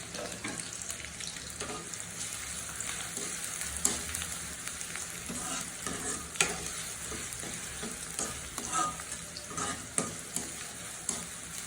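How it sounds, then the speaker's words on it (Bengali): Chopped onion frying in hot oil for an egg korma, a steady dense sizzle throughout with occasional scrapes and stirring clicks from a utensil, close and continuous with no talking. "তেলটা গরম হয়ে গেছে, এখন আমি এতে পেঁয়াজ কুচি দিয়ে দিচ্ছি।"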